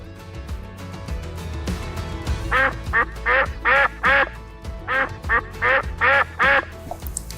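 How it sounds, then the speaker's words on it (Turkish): A duck on a pond quacks repeatedly, about ten loud, evenly spaced quacks in a row, following a moment of quieter background sounds. "tabii ya göldeki ördek"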